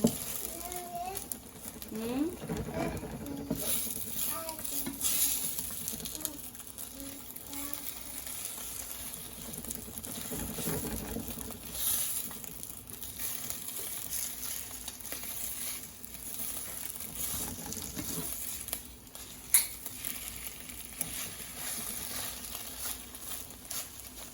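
Eggs frying in a pan for a keto breakfast, a steady soft sizzle and crackle running throughout with occasional light clinks and stirring, fairly close and quiet.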